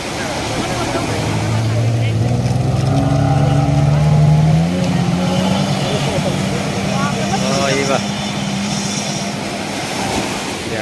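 A motorboat runs on the water near Kozhikode, its engine droning close and loud with a pitch that rises and then falls, while people talk over it.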